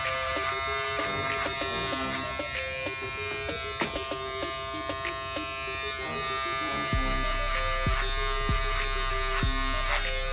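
An electric finishing shaver buzzes continuously at close range while it touches up the bottom of a haircut taper. The buzz is steady and shifts in pitch as it moves over the skin, and there is light background noise.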